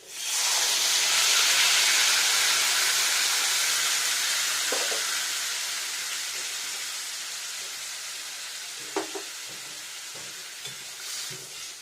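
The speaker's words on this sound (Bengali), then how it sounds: "এবার এখানে দিয়ে নেবো জল" Water poured into spices frying in a pan for a plantain kofta curry sets off a loud steamy hiss that gradually fades over several seconds, followed by a few quiet clinks and scrapes near the end.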